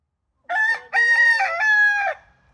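One loud, nearby rooster crow, broken into a few drawn-out syllables, rings out clearly against silence.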